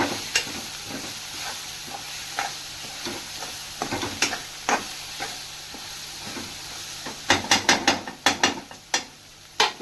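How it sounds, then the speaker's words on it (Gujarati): A spatula stirs turmeric, chili and coriander-cumin powder in a pan, making irregular close scrapes and taps over a soft sizzle. The clicks grow quicker and denser toward the end, with no voices. "હવે આને બધા મસાલાને મિક્સ કરી દઈશું."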